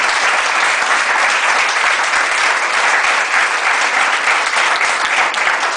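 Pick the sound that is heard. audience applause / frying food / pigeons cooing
audience applause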